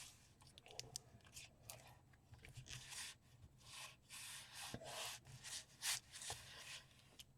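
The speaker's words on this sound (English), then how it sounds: "Smooth it out. Rub it down." Faux leather is rubbed and smoothed down onto a book binding by hand, giving soft, close, uneven scuffing strokes at low volume.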